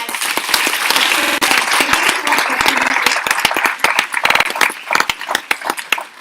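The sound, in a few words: audience applause at Bharatanatyam dance recital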